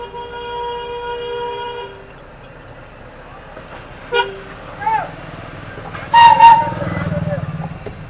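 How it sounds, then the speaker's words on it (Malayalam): A train locomotive running without coaches sounds a long sustained horn toot, then fades to a low rumble while people talk nearby, followed by louder mechanical clatter and rumbling near the end. "ബോഗിയില്ല, എഞ്ചിൻ മാത്രമേ ഉള്ളൂ"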